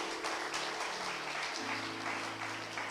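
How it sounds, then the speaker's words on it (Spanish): A church congregation claps together in steady, rapid applause during a Sunday morning service, filling the room at moderate loudness with no voices over it. "Dele palmas al Rey de Gloria en esta mañana"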